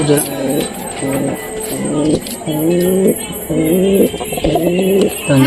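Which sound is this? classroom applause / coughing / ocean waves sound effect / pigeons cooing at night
pigeons cooing at night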